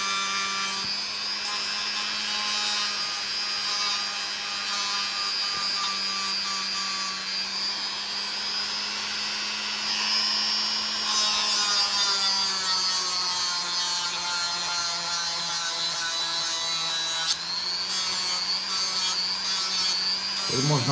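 Rotary tool with a grinding attachment works along a knife blade, a steady high-pitched whine with shifting grinding tones running continuously for the whole stretch, close and loud.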